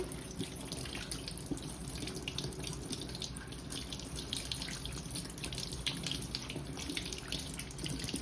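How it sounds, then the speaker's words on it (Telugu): A kitchen tap runs steadily as pumpkins are washed under it, giving a continuous gentle splash and hiss with small irregular drips, fairly quiet and without speech. "మంచిగా శుభ్రంగా వాష్ చేసుకోవాలండి"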